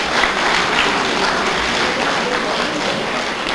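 An audience applauds at a 2010 MLK service, steady dense clapping filling the whole stretch at an even, fairly loud level, with no pauses.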